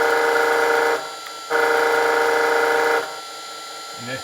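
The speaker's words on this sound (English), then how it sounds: "honk the horn" A heavy RC truck's horn gives two loud, sustained honks, each about a second and a half long, with a short pause between them.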